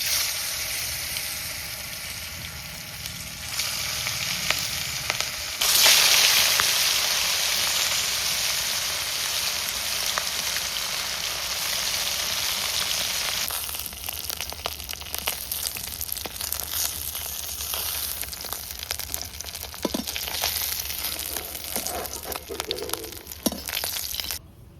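Fish frying with onions in a pan in a village kitchen, a broad sizzle that swells loudly partway through and then carries on crackling. People talk over it now and then.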